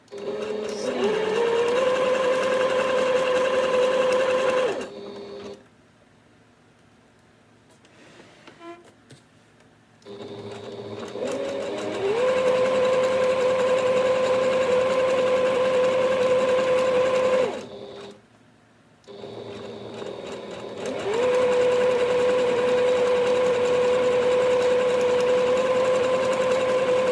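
A Singer Heritage sewing machine stitches a zig zag pattern in three long steady runs of close, loud motor whir, separated by short quiet pauses with faint handling noises.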